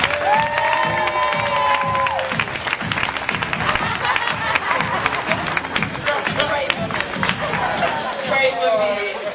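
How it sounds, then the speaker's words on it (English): A crowd at a TLC Super Saturday event in Raleigh, North Carolina claps and cheers loudly. Whoops and shouts ride over steady rhythmic clapping throughout. "Give her a round of applause."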